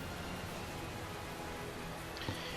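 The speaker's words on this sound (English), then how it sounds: "This rain is something else." Heavy rain pours down steadily in a video game, a dense continuous hiss that stays even and close throughout with no voices.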